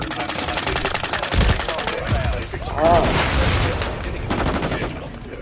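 Rapid gunfire in a shooter video game, dense automatic bursts rattling almost continuously with a brief lull in the middle, loud and close, voices faintly mixed underneath.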